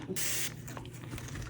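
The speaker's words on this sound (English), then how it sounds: "So I'm just going to spray the inside of my mold." A short, close burst of aerosol spray hisses into the inside of a resin mold, lasting about half a second, followed by faint handling sounds.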